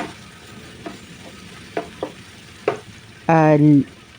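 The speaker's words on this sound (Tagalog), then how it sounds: "continuous halo lang po yan" Sisig is stirred continuously in a pan, a spatula scraping and tapping in sparse, uneven strokes over a faint background sizzle, followed by a brief tonal squeal near the end.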